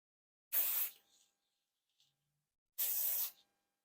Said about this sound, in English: Give that a little spray.